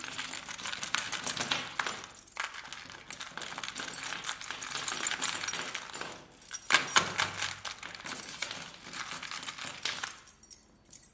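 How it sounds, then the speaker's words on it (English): Keys scrape and click against the screen of a Xiaomi Redmi Note 7 during a scratch test, in irregular scratchy bursts with short pauses, fairly quiet and close. "I'll do a scratch test with this as well, and I have a few keys here. I'll use them to scratch it vehemently."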